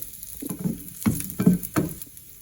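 Ginger and garlic hit hot oil in a pan already holding cloves, green chillies and cashews, for a mushroom and peas masala; a soft, steady sizzle is broken by several distinct stirring scrapes in an uneven rhythm.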